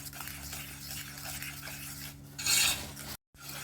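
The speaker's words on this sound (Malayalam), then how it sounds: "നമുക്കിത് നല്ലവണ്ണം ഒന്ന് ഇളക്കി ഇതിനോട് ചേർക്കാം" A milk bun mixture thickened with maida flour is stirred in a pot, giving a continuous rasping scrape with a brief brighter swish near the end, then a short break.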